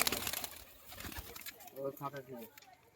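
A homing pigeon coos briefly near the end as it is caught by hand, soft throaty calls following scuffling and brief fluttering, with someone speaking nearby.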